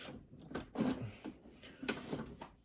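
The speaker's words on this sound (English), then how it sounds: "These drawers are like stuck together." Stuck wooden drawers scrape and thud as they are tugged repeatedly, with several sharp knocks and rattles over a couple of seconds.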